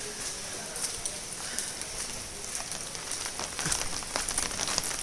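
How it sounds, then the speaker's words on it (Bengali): Steady rain falling outside a house in Kolkata, a continuous soft hiss with scattered drip taps throughout, faint and even. "বাইরে কন্টিনিউয়াসলি বৃষ্টি পড়েই যাচ্ছে।"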